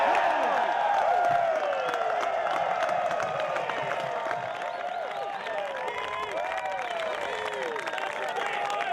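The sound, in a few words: crowd cheering and applauding at a disc golf championship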